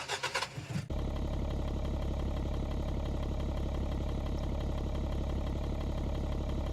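A car engine cranks briefly, catches and settles into a loud, steady idle with a continuous low hum that stays close and unchanging to the end.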